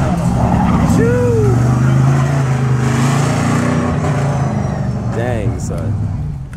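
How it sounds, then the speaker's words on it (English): A race truck slides sideways during a hill climb at Reading, the engine roaring loud and close with brief tire squeal, while excited spectators shout and talk over it. "Getting the truck sideways."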